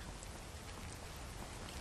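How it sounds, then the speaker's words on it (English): Steady rain pours in the Skyrim video game world, a dense, even wash of falling drops with no voices. "Oh, and what do you know? It's raining."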